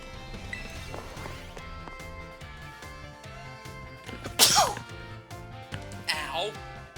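A sudden sharp sneeze bursts out close and loud midway, over a background of game music, followed by a brief vocal exclamation.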